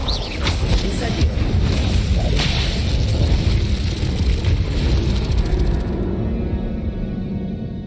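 Incendio fire spell cast in Hogwarts Legacy during a duel, a loud sustained whooshing roar of flame with sharp crackling bursts and whips of other spells, speech briefly under it.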